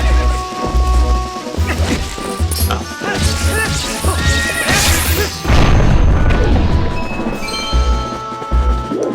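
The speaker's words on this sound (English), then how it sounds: "we have these boulders blocking the way. Not a problem for someone with bombs." Bombs blasting apart boulders that block a path in the video game Zelda: Twilight Princess, with repeated booming crashes and bursts over steady game music, a big blast near the middle, all loud and close.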